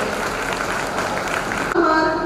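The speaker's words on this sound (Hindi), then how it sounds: "कृपया तालियों से इनका स्वागत करें।" Applause from the crowd at a company foundation day event in Bhopal, a continuous moderate clapping texture that cuts off near the end, where a voice comes in over it.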